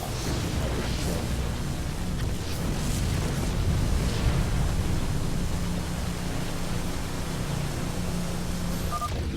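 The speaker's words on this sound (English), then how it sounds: "We have destroyed a Tal'Darim mothership." A Tal'Darim mothership in StarCraft II being blown apart: a dense, continuous roar of rumbling explosions, loud and broadband, holding steady across the whole stretch without distinct separate blasts or any voices.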